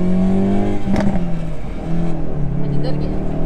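Hyundai i30 N on a race track during a first-laps track day, its engine droning loud and steady with shifting pitch as it accelerates, and people talking over it.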